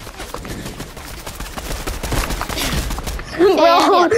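Rapid bursts of weapon fire in a Fortnite match, dense crackling shots layered over game noise, with a tonal game sound rising near the end; a player's voice talks over it.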